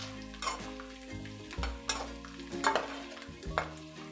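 Garlic for homemade pickle sizzles steadily in hot oil in a pan, with repeated scraping stirs every second or so, close and fairly loud with no talking.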